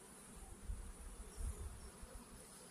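Bees buzz faintly around a hive in an apiary, a soft continuous drone that swells a little now and then.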